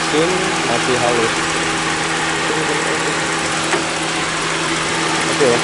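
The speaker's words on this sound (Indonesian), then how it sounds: "Oke, untuk di mesin masih halus kalau menurut saya," A 1988 Ford Laser engine idles smoothly with a steady, even rumble, loud and close, with no talking over it.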